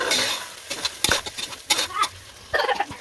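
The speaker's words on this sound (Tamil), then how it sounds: "இதை சேர்த்து இதையும் சேர்த்து நல்லா வதக்கி விட்டுருவோம்." Mutton with ginger garlic paste sautéed in a pan gives sharp, irregular scrapes and clanks of a utensil against metal over a soft background sizzle, close and loud.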